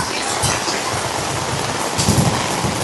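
Heavy rain pours down steadily during flooding in Hermosa, Bataan, a dense continuous hiss of drops drumming on surfaces, close and loud throughout with a brief swell near the end.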